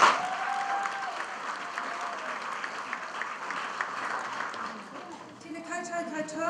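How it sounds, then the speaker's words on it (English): An audience claps at a high school leavers' ceremony, with steady, moderately loud applause that fades toward the end as a speaker begins talking. "So I think another round of applause is due."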